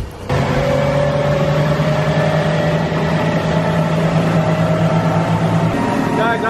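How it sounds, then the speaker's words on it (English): A boat engine drones steadily and loudly through a late-night boat ride, holding a sustained hum with a slight shift in pitch near the end, continuous and close. "It's 1 a.m. and we gotta take a boat ride."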